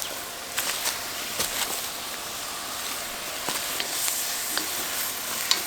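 Garlic sizzling in a pan for penne alla vodka, a steady broadband hiss that holds at a moderate level, with a few soft clicks and stirring taps scattered through it.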